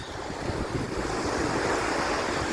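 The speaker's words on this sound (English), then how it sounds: "It may be really windy, and I apologize for that" Wind buffets the microphone in a steady roar on a beach at Pescara on the Adriatic Sea, with surf-like rushing noise and no voices.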